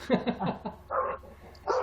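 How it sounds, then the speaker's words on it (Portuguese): Dogs barking at night, a short run of several quick barks and yips from a moderate distance, followed by a couple of further barks, with no talk. "Agora os cachorros começam a se liberar, né?"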